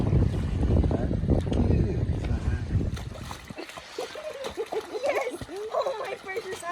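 Water runs and splashes onto a concrete slab outdoors during a baby's first bath, a broad rushing wash that fills the first half, then eases as people talk close by over lighter trickling.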